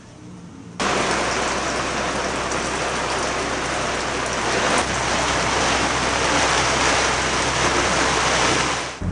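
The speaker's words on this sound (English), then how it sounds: "the rain is coming over" Steady rain falls hard and close around a canal boat, a dense, even hiss that begins abruptly and continues without pause, with no voices.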